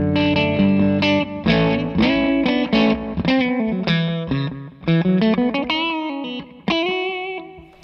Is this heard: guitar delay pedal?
yes